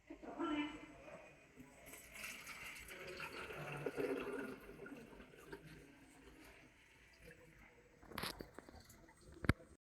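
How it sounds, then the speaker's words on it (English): Purified water is poured into the printhead circulation water tank of an ST-C360 printer, a steady watery gurgle and splash lasting several seconds, followed by a few sharp clicks near the end. "Fill with purified water."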